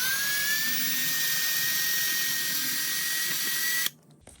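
Close, high-pitched whine of a power drill running steadily, then cutting off abruptly near the end into quiet clicks.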